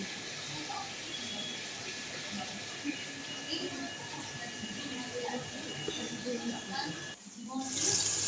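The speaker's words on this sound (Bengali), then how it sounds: "ভালো করে ধুয়ে মাছগুলো ভাজছি আমি এখন" Fish rubbed with salt and turmeric fry in hot oil, giving a continuous soft sizzle and hiss with small crackles, close and steady, with a faint voice behind it.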